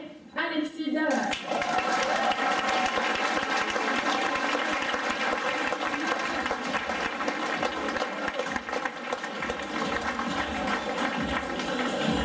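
Sustained audience applause at a youth football awards gala for the Atom-level team, a dense, loud wash of clapping filling the room from start to finish after a brief opening moment.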